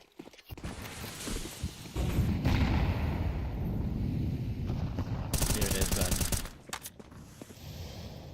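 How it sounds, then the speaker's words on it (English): A FAMAS rifle tap-fires in the video game Counter-Strike during a tournament playoff match, with quick close shots standing out among fainter distant gunfire and footsteps, under background game noise. "Tapping away with the FAMAS in Jag"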